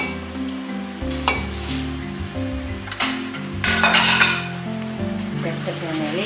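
Liver pieces sizzle with onion in a hot pan while being stirred, with scraping and clinking of a utensil against the pan over the steady frying hiss.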